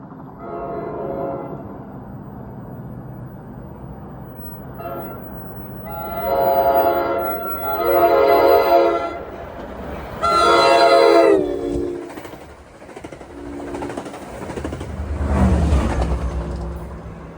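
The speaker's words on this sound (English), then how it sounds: "I can hear number 66 blowing his horn in the distance" A diesel commuter train rumbles steadily past while its horn blows several long, loud blasts, then the engine noise swells and fades with a low rolling drone.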